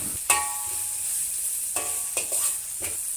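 Chinese broccoli and baby corn stir-fried in a hot wok for Thai drunken noodles, a steady close sizzle broken by a few sharp scraping clatters of the spatula, with no talking.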